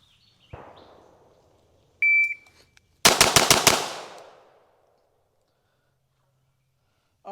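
A Staccato XC pistol fires five rapid, loud, close shots in a quick burst that rings out afterward, preceded by a shot timer's beep and a few softer clicks.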